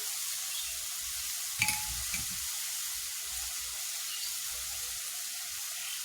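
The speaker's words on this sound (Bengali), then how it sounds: "আমি মশলাগুলো ভালোভাবে নাড়াচাড়া করে নেই" Spices such as turmeric, coriander and chilli powder stirred and fried in a pan for a small-fish curry, a soft steady sizzle with faint scraping strokes and one sharper clink near the middle.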